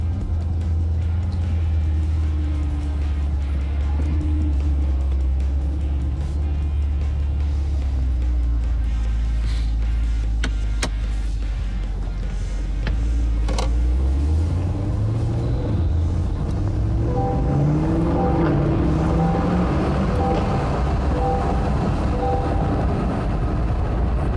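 Low road rumble and engine drone from a moving C8 Corvette, repaired after a wreck, rising in pitch as it speeds up, with occasional clicks and bumps.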